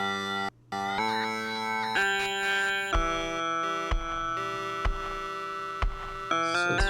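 Slow, heavily processed, pitched-down vaporwave edit of Sonic soundtrack music with a chorus-like, distorted tone, plodding along in low, stretched notes with occasional percussive hits.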